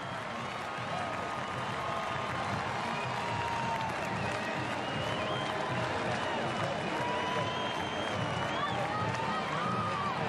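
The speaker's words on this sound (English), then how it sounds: "They are standing and cheering here in Lawrence, Kansas." Large football crowd standing and cheering in a Lawrence, Kansas stadium as the Kansas Jayhawks reach 11-0, a steady, loud roar with applause throughout, spread wide with no single voice standing out.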